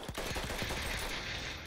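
Rapid automatic gunfire rattles in a Battlefield 1 multiplayer match, a quick burst of close shots that then blurs into a dense, steady wash of battle noise, fairly quiet overall.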